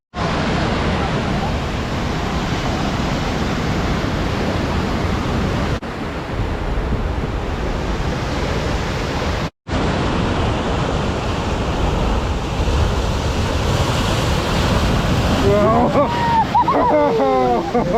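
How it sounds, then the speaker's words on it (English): Ocean waves crash against the rocky shore in Bandra, Mumbai, a continuous loud wash of surf and wind noise over the microphone, with faint crowd babble and a brief sharper sound near the end. "this looks like the place where the waves most violently crash against the shore"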